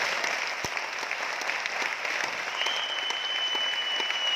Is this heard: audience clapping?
yes